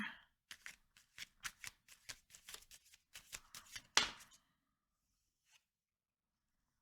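Tarot cards are shuffled in a rapid run of crisp riffling bursts, close and quiet, before one sharp snap and then near silence.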